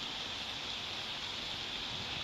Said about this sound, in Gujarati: નસવાડી પંથકમાં વરસાદ થયો છે